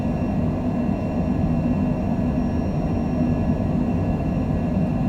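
Steady low roar of a Cessna Citation Longitude business jet's engines during its takeoff roll at Las Vegas (KLAS) in a flight simulator game, a continuous dense rumble that holds even and loud from start to finish with no voices.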